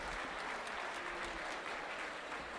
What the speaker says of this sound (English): So round of applause for our scholarship winners.